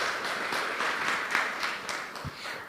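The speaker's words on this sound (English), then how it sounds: "a big round of applause for Melissa." Conference audience at a panel session gives a steady round of applause, a soft, continuous wash of many hands clapping heard from a slight distance.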